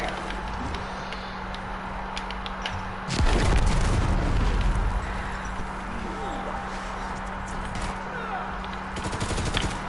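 Machine gun fire in Call of Duty: WW2, a short heavy burst of rapid shots with a booming low end, over a steady game hum and further scattered clatter.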